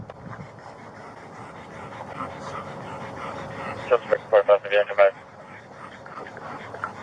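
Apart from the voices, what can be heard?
dogs panting and whimpering in a hot car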